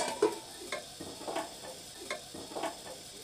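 Rice flour appalu fry in hot oil, giving a soft, steady sizzle. Faint stirring taps repeat at a regular pace, all at low volume with no talking.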